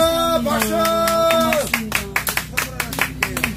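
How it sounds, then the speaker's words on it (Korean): An audience at a traveling pumbar comedy show at an oyster complex claps in a burst of sharp, ragged hand claps right after singing with instrumental backing fades out. "와 박수"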